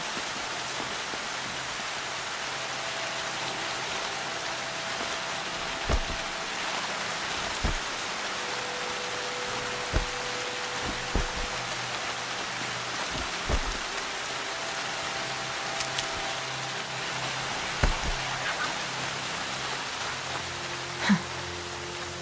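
Steady rain falls in Horizon Zero Dawn, a soft continuous hiss with occasional louder drops and faint taps scattered throughout, with no voices.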